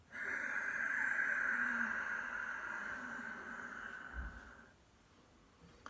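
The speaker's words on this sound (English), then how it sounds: "That lovely Ujjayi breath." A slow Ujjayi breath drawn in through the nose during a yoga session, heard close and quiet as a soft, steady, hissing, oceanic rush that fades out after about five seconds.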